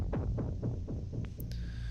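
Synth kit impact from the Drum Fury 2 sample library: a run of rhythmic, descending throbbing hits at steady medium level with a low droning hum underneath, no voices.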